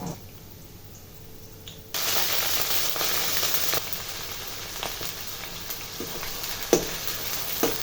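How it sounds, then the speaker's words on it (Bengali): Beef fat hits a hot pan of fried onion with cinnamon, black and white cardamom and peppercorns, bursting into a loud, steady sizzle after a quieter start, with faint stirring clicks and scrapes. "পেঁয়াজ একটু ভেজে নিয়ে তাতে ২টি দারুচিনি, ১টি কালো এলাচ, ২টি সাদা এলাচ, ৮-৯টি গোলমরিচ দিয়ে নেড়ে চেড়ে এর মধ্যে চর্বিগুলো ঢেলে দিব।"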